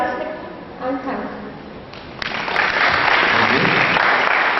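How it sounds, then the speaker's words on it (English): Conference audience applause for a researcher at a university event. Speech comes first, then a burst of clapping swells in about halfway through and continues steadily to the end. "Let us give a applause to the researcher."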